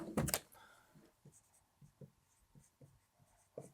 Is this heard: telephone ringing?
no